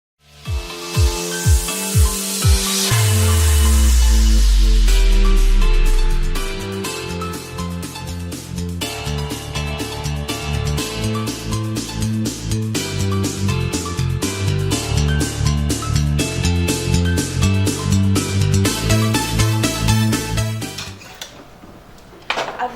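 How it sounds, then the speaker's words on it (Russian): A Kalashnikov assault rifle being taken apart by hand: a loud opening clatter and sliding scrape, then a long run of sharp metallic clicks, taps and rattles as parts are handled, close and continuous. "Для начала нам нужно развернуть автомат и снять."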